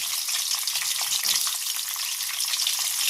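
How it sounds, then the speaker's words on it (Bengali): Cauliflower florets frying until browned in hot oil: a continuous, bright, close sizzle with a busy crackle and faint stirring, and no voices. "এবার এই সেম তেলেই আমি ফুলকপিগুলো লাল লাল করে ভেজে নেব"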